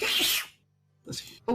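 A single sneeze, sharp and close, followed by a short quiet pause and then a brief spoken word.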